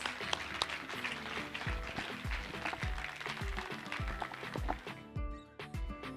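An audience at an open talk with a spiritual couple claps along with music, the applause fairly faint and mixed with rhythmic beats and a low drum pulse throughout.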